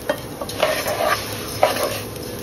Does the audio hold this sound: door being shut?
no